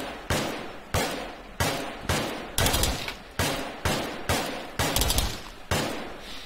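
Repeated gunfire in the military shooter ArmA 3 with RHS mods, about nine sharp loud shots in an uneven rhythm roughly every 0.7 seconds, each with a short decaying echo, with no talk over them.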